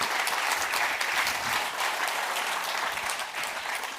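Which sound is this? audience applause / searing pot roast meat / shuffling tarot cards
audience applause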